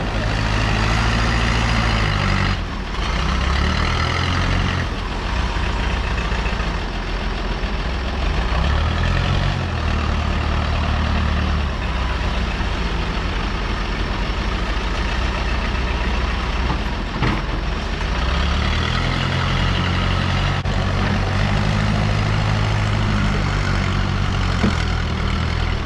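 A heavy truck with a push-button start idles steadily, its low diesel rumble loud and continuous, with a brief air-brake hiss partway through and no voices.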